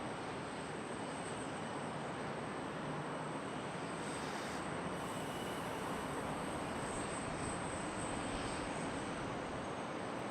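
Piedmont airliner taxiing along a taxiway at Charlotte Douglas airport, producing a continuous, even engine rumble and hiss at moderate distance, steady throughout with no talking.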